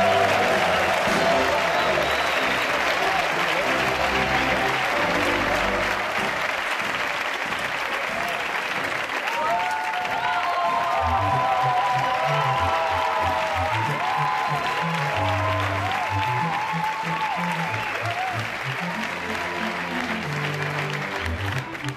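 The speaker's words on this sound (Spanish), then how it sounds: "Que me aplauden un rato antes." A large TV game show studio audience claps steadily and loudly for a long stretch, with faint whoops and background voices mixed into the sustained applause.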